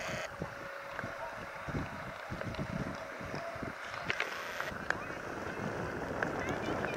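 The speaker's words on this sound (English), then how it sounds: "Pretty windy out today." Wind buffets the microphone in low rumbling gusts, with a faint steady hum and occasional clicks in the background.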